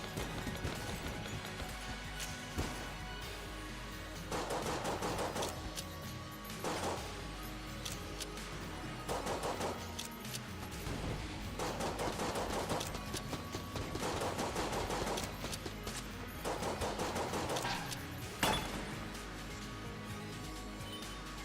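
Rapid bursts of gunfire from shooting in the video game Enter the Gungeon, coming in repeated clusters of dense firing over a steady game soundtrack, with a few sharper impacts between bursts.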